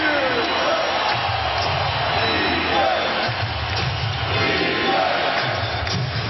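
Arena crowd at an NBA Finals game between San Antonio and Cleveland in 2007, a steady, dense murmur of thousands of fans with swells of voices throughout, continuous and fairly loud with no commentary over it.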